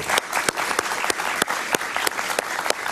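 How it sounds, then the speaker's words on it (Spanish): Sustained applause from a talk show audience welcoming a guest, dense clapping throughout with a few sharper claps standing out, loud and close. "Un aplauso para él, por favor."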